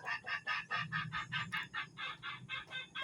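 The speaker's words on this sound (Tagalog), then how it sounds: "I-breed namin to sa labuyo na si Sunok." A labuyo, a Philippine junglefowl chicken, makes a rapid run of about a dozen evenly spaced clucking calls, close and fairly loud, over a low background murmur.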